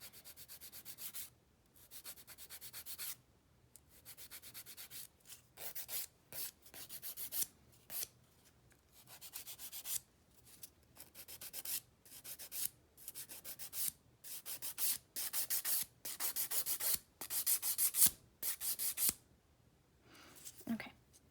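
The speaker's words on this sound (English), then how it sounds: "And then I'm just gonna continue with my filing." Fingernails are filed with a nail file during a dip-powder manicure: close, rhythmic rasping strokes come in short repeated bursts with brief pauses between them.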